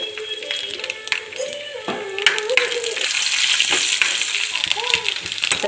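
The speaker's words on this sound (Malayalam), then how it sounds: "ഒരു പാത്രം വെച്ച് വറവിടാം കുറച്ച് വെളിച്ചെണ്ണ വെച്ച് കൊടുക്കാം അതിലേക്ക് കുറച്ച് തേങ്ങാക്കൊത്ത്" Coconut pieces fry in coconut oil in a pan, a close, steady sizzle that swells louder, with intermittent stirring scrapes and clatter over it.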